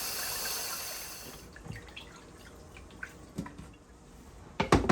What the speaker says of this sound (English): I just want to give it a rinse